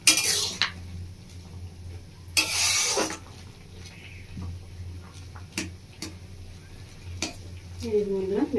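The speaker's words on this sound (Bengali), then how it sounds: "সবজির সাথে ভালো করে মিশিয়ে নেবো।" Utensil scraping and clinking in a pan as Maggi noodles are stirred and mixed with vegetables, a few sharp metallic knocks over a low steady hum, with brief voice sounds near the end.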